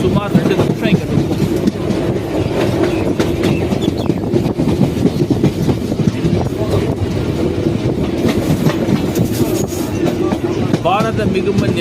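Train rumbling at Thiruverumbur railway station, steady loud rolling of carriages with wheel clatter and occasional squeal, a voice talking over it.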